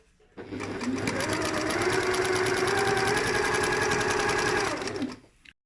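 A sewing machine runs a continuous fast, even stitching drone as it sews an invisible zip down a seam, starting and stopping cleanly, loud and close with no talk over it.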